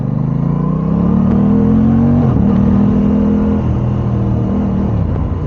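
An Aprilia RS660 motorcycle, a 2022 model, accelerating on a local road, its engine note steadily rising and shifting through the gears, loud and close throughout with no talking.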